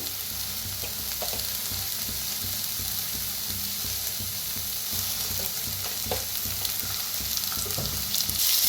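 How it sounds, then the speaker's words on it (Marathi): Eggplant roasting in oil in a pan gives a continuous close sizzle and crackle, with occasional soft stirring knocks, alone without any talking. "आता थोडंसं तेल ओतून भाजूया।"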